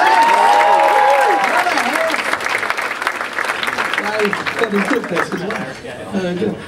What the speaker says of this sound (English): Give another round of applause right there.